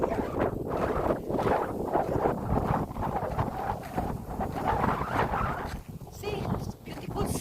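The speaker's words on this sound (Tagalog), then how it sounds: "It's very windy and cold" Strong, cold wind buffets the microphone outdoors beside green farm fields, producing continuous loud gusty roaring that rises and falls in waves throughout.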